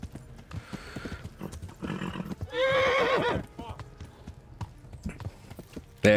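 A horse in Kingdom Come: Deliverance whinnies loudly in one rising, wavering call midway, set among steady clip-clopping hooves and game ambience, with faint voices in the background.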